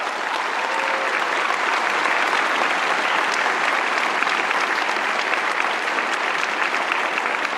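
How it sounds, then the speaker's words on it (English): A commencement ceremony audience gives sustained, loud applause, a steady roar of many hands clapping throughout with no break. "Give a round of applause to the village."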